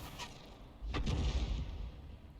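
A 105 leFH18B2 self-propelled artillery gun in a tank game fires one deep, booming shot that rolls out into a low, rumbling decay, loud and without talk over it.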